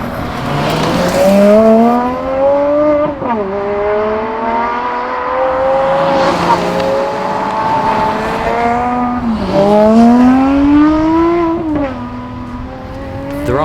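An Aston Martin One-77 sports car drives past with a loud, continuous engine note that climbs through the revs in repeated rising sweeps. The pitch dips sharply at gear changes before it pulls again.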